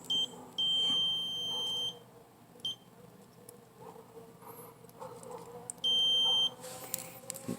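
A multimeter continuity tester in an auto electrical check gives two clear, steady high-pitched beeps, one long and one shorter, separated by quiet background rustle.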